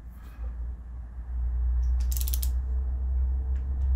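Ratcheting wrench clicks as cylinder head bolts are tightened on a V6 engine (ES9J4S), with brief mechanical clicks and metallic ticks over a steady low workshop hum.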